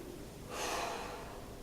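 A slow, breathy exhale during a guided breathing and movement exercise, a single soft airy rush that swells after a quiet moment and lingers faintly, heard alone with no talking.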